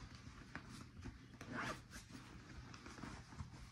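A brief zipper pull on a bag's inside pocket rasps in a quiet room, a short scratchy run near the middle with soft handling noise around it.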